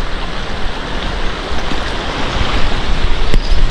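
A fast-flowing river rushes loudly beside a riverside campsite in Norzagaray, Bulacan, a close, turbulent roar of water swelling slightly toward the end, with a brief sharp knock near the close.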